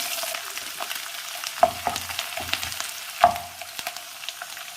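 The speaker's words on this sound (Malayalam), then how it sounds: "വെളുത്തുള്ളി ചേർക്കാം." Garlic fries in hot sesame oil with popped mustard seeds, a steady close sizzle with occasional louder spits and stirring clinks, no talking.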